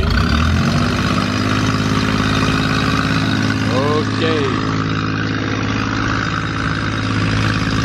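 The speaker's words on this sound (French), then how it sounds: "Oh, petit problème de moteur, on dirait." A boat's engine drones steadily with a minor engine problem, a loud continuous low hum throughout, with a brief warbling pitch wobble midway and a short spoken word.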